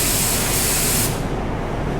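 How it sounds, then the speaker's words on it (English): A hobbyist paint spray gun sprays metallic car paint onto paper in a fan pattern test, making a loud steady hiss that holds for about a second, then a softer airy rush that carries on to the end. "And once more over here on our paper, we'll do a first fan pattern test."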